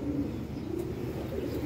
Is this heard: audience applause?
no